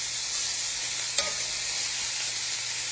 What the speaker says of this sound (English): So I am frying me up some Bob Evans sausage.